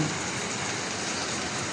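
Steady rain falls during a wet monsoon morning, an even, dense hiss of drops that stays constant and fairly close for under two seconds, with no voices.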